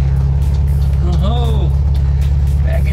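A VW Thing with a stock shifter reverses, its engine droning loud and steady with a deep rumble close by while a person talks over it.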